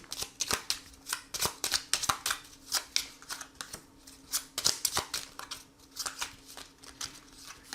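An oracle card deck being handled as three cards are drawn, with a quick run of crisp close-up flicks and slaps of card stock in an irregular rhythm, no speech.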